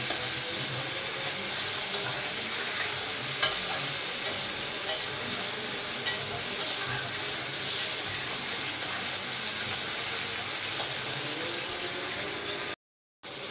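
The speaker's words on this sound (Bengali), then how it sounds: "গ্যাসের ফ্লেমটা একটু বাড়িয়ে আমি টমেটোটা ভালো করে নরম করে নেব।" Tomato softening in a hot pan over a raised gas flame, a steady sizzle and fry with occasional light clicks of stirring, close and continuous, broken by a brief dropout near the end.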